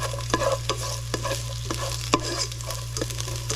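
Ginger sizzles and fries in a pan on a single stove, with repeated scraping and clacking of stirring over a steady hiss and low hum, with no talking.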